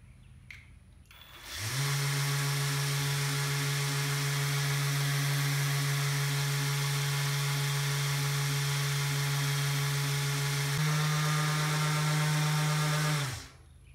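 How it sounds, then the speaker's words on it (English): A random orbital sander fitted with a Scotch-Brite pad runs over a sprayed cast iron surface, giving a steady, close motor drone for about twelve seconds. Its pitch steps up slightly near the end, with no talk. "stick it down on your random orbital. We're going to spray the surface down, and we're going to go ahead and sand it"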